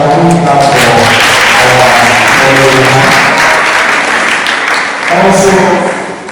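Audience applause at a women's business empowerment summit, a sustained wash of clapping that swells and stays loud, with a voice talking over it and music tones underneath, easing off near the end.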